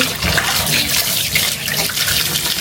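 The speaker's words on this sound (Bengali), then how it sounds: "এই যে আম সুন্দর করে ধুচ্ছি" Mangoes rinsed under a running tap at home, a loud steady gush of water splashing continuously and close by, with no voices over it.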